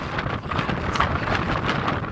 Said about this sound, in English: Whoa, it's really windy.